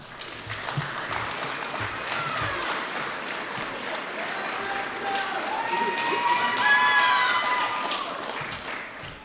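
A graduation audience applauds and cheers as a graduate's name is called at a high school ceremony, continuous clapping from a large crowd swelling slightly louder toward the end, with scattered voices underneath.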